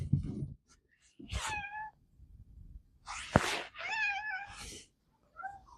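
A barn cat meows several times nearby, drawn-out, plaintive calls separated by short pauses, with a sharp click in between.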